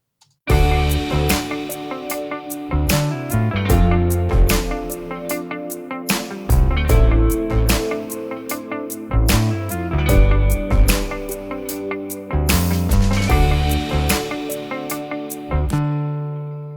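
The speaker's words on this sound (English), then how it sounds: "I'll start by playing you this track that I have that doesn't have any vocals" An instrumental track with a punchy beat and layered synth or keyboard chords plays loudly and steadily, with no singing.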